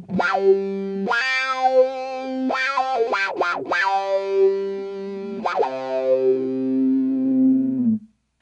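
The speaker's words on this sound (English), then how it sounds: "you can really hear the filter opening and closing on the sound" A sustained electric guitar tone sweeps through a Q-Tron Plus envelope filter pedal in a wah-like envelope, the sound opening and closing with each plucked note, distorted and resonant.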